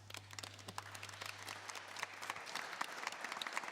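Applause from a congregation inside the Église Saint-Pierre in Jarnac, steady scattered clapping at a moderate distance with a low hum underneath and no talking.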